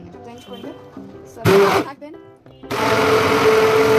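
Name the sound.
electric blender blending a homemade hair pack with coconut oil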